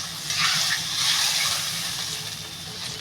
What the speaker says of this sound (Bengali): বন্ধুরা আমি এবার ঝোল দিয়ে দেবো